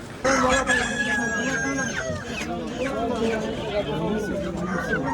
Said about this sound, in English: There are a lot of chickens and turkeys and other types of birds kicking about